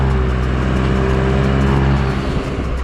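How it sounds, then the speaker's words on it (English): Exhaust of a Hyundai i20 N Line burbling at low speed or on a downshift, a deep, steady rumble with a slight rise and fall, heard loud and close without any talk. "at low speeds or when you're downshifting, you can hear this really sporty burble from the exhaust"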